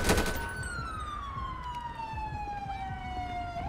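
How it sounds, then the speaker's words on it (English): Police car siren in GTA 5 with the LSPDFR mod on a Chicago patrol, a loud wailing tone gliding slowly downward and sustained close by over a rumbling engine and road noise. "Let me turn off my siren."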